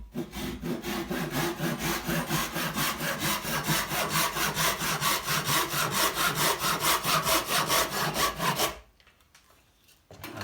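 A bandsaw cuts wood for a poker table with a close, steady rasping grind that pulses in quick even strokes, then drops away to near quiet at the end.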